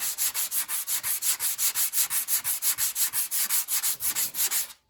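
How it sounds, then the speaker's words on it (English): Sandpaper is worked by hand over the painted body of a 2010 Acura RDX in a garage, producing loud rhythmic back-and-forth rasping strokes, about four per second, that stop abruptly at the end. "So sand it this way for a bit"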